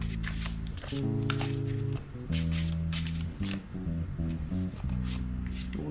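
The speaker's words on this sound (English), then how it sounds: "Let's shuffle and pick out the piles now." Moonology Oracle cards being shuffled by hand, a steady papery riffling and sliding that runs throughout over continuous background music.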